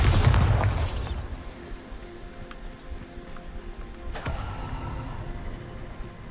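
Bombarda explosion spell in the video game Hogwarts Legacy, a deep booming blast opening loudly then fading into a rumbling tail, with a second sharper burst midway over a low continuous game background.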